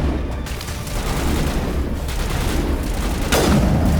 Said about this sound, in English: let's pull out the sniper rifle